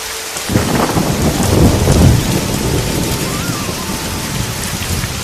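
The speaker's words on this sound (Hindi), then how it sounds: "ये तेज बारिश लगातार 4-5 दिन से अपना कहर बरसा रही थी।" Heavy, steady rain pours onto surfaces with a dense hiss, while a deep rolling rumble of thunder swells and fades early on; loud and close, no voices.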